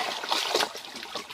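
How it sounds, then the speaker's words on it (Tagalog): Clothes are dipped and rinsed in a river, making a short, soft swish and trickle of water, close by and with no talking. "Lulublob mo lang sa tubig."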